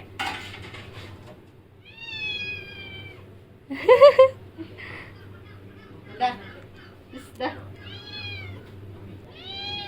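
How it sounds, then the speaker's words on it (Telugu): A cat in a home kitchen meows several times, some calls drawn out and some short and sharp, spread across the clip above a low background hum, with a faint clink of kitchenware. "పిల్లి అయితే వీళ్ళ ఈ వంట రూమ్లోనే తిరుక్కుంటూ ఉంటుంది"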